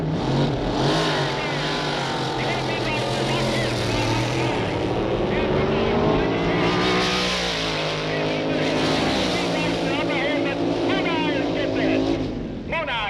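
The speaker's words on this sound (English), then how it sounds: "So that indicates the little B-dragster is very quick out of the hole." Supercharged A-dragster and B-dragster drag racing at the 1962 Winternationals: a continuous loud engine roar with shifting pitch as the cars accelerate, heard under steady commentary.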